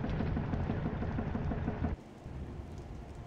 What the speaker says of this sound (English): Now you can hear there's a storm.